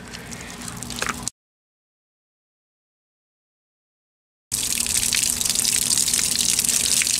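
Water gushes loudly out of a plastic jug shot during a 17 HMR and 22 Mag rifle test, a steady splashing pour broken by a few seconds of complete silence before resuming just as strongly.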